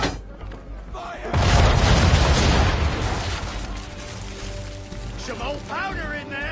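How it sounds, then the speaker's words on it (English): Ship cannons fire a broadside in Assassin's Creed III, a loud booming blast that rolls into a long rumbling, crackling decay, with a voice briefly calling out near the end. "Now, aim all guns at her bow and do as much damage as possible."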